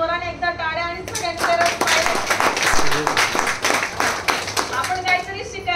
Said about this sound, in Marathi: त्यासाठी जोराने एकदा टाळ्या